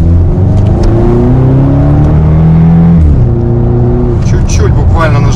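A BMW X6 M engine accelerating in M mode, a loud rising and falling whine as it pulls through gears with a shift near the middle, close up inside the car while a person speaks over it.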